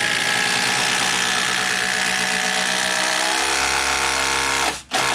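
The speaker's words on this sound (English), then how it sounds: "this is one of those new Milwaukee brushless impacts, and it's got plenty of power to drive these legs" A Milwaukee brushless impact driver runs continuously as it drives screws into cedar deck legs, with a loud, steady mechanical whine that shifts in pitch midway and then stops abruptly.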